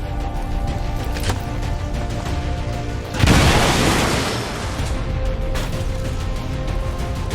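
A grenade explodes in the XCOM 2 video game: one loud, sudden burst rises over ongoing game sounds and rumbles out for about a second before the background returns.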